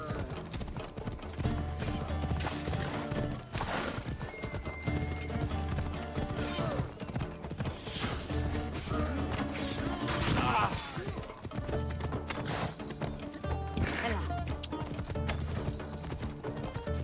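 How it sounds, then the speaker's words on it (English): Horse hooves clatter through mounted combat in Assassin's Creed Odyssey, a steady galloping clip-clop beneath clashing metal, crashes and game effects, with a voice talking over parts of it. "Some horse combat."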